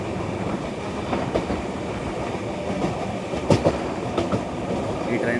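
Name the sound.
Prashanthi Express train with LHB coaches running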